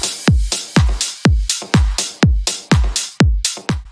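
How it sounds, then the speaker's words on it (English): A dry programmed drum loop repeats a steady pattern of punchy kick hits with snappy snare and hi-hat on top, clean and alone with no reverb. "I have a drum loop over here that by itself sounds like this."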